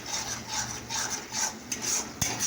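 Spices and food are sautéed (kosha) in a pan, heard as a steady scraping and stirring of a spatula against the pan with a soft sizzle beneath, continuous and close.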